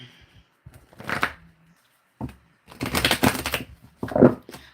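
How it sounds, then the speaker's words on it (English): Tarot cards being shuffled in several separate bursts of quick riffling and snapping, close and fairly loud, with short pauses between them. "These cards fascinate me. I love my cards."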